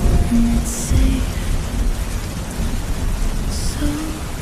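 Steady, loud rain pours throughout a thunderstorm, with deep thunder rumbling underneath and a few brief, bright crackles on top.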